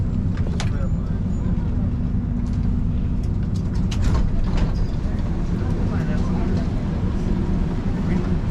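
A metro train rumbles at an Athens station, a steady low mechanical drone with clanks and squeals over it, continuous throughout.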